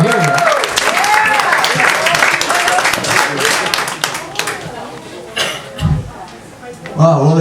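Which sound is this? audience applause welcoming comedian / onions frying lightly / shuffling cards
audience applause welcoming comedian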